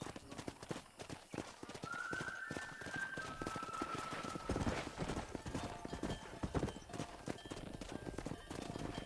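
Horse hooves galloping in the Red Dead Redemption video game, with rapid rhythmic clip-clop throughout, a whinny near the start and cattle-drive sounds mixed in, moderately loud.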